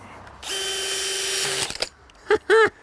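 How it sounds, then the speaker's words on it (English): Power drill driving a screw into a wooden cedar deck board, a steady whirring drone for about a second, then a quick stop, a few clicks and two short revving bursts, close and loud. "the tip of that actually bores into the wood"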